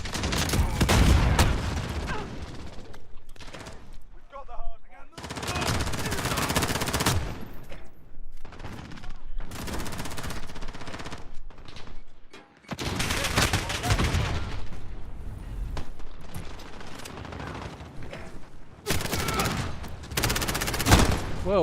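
Heavy video game gunfire in loud, dense bursts of automatic shots and booms, broken by short quiet gaps, with a voice speaking at times.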